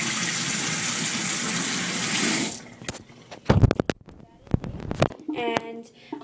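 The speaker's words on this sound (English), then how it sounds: "make sure you get it really, really washed out, because you don't want any leftover olive oil or soap to be stuck in your brush" Water runs steadily from a tap while a makeup brush is rinsed clean, a hissing flow that stops after a couple of seconds, followed by soft handling clicks and knocks.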